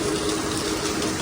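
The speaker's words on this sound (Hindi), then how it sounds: "देखें बारिश कितनी तेज़ लगी हुई है" Heavy rain pours steadily outside where water collects behind a boundary wall, a dense, loud, continuous rushing hiss with no speech.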